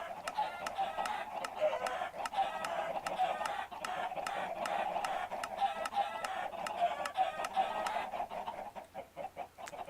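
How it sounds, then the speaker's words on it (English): Rapid stream of Minecraft chickens hatching from eggs shot by a dispenser in a video game, with steady rhythmic popping and overlapping clucks that keep on for several seconds before thinning out at the end. "You can hear the dispenser shooting the eggs and spawning chickens."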